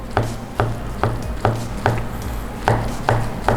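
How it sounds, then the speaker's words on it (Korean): A knife thinly slices a cooled egg omelette into strips for gimbap, giving about nine evenly spaced, firm thuds on a cutting board at a steady rhythm, close and clear with no talking. "그대로 채 썰어 주시면 됩니다. 얇게."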